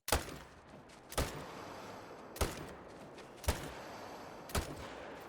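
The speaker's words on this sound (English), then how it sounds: "Or you can just pepper them with bullets until they die, like this" Rifle gunfire cracks out while shooting animals in the hunting game Call of the Wild: five sharp shots spaced about a second apart, loud and close, with quiet ambience between them.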